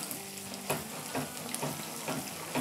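Kebabs frying in hot oil, a dense close sizzle and bubbling crackle with a few soft clinks, steady throughout with no talk.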